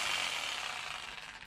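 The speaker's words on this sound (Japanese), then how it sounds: "これジグソーという" An electric jigsaw fitted with a stainless-steel blade cuts a homemade joint chopstick, giving a brief, continuous high buzzing rasp that fades slightly toward the end.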